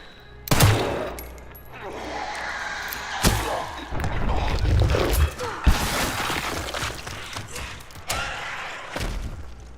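Gunfire at an enemy in the video game Resident Evil Requiem, several sharp loud shots spaced apart with heavy thumps and rumbling impacts between them, fairly close.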